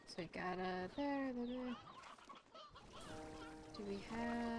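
Sea hens in Slime Rancher 2 give a run of bright, stacked clucks and squawks, loud and close, with a short noisy gap in the middle before the calls return.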